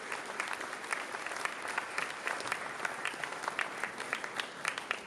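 An audience at an accordion festival in Ísafjörður claps warmly, a dense, steady round of applause from many hands that holds throughout without voices.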